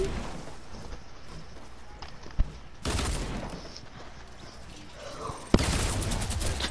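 Gunfire in Fortnite, with bursts of rapid shots and sharp single cracks over a busy game background and some faint voices.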